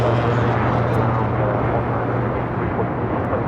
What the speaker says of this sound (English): another United Dreamliner now rolling down 25 right